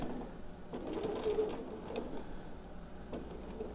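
A sewing machine runs steadily through fabric for a clover quilt block with a soft, low, continuous hum and faint ticking, quiet and close, with no talking.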